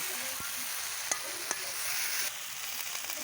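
Potatoes with white mustard being stir-fried in a pan for a pointed gourd dish, a continuous close sizzle broken by a few sharp spatula taps and scrapes, no voices.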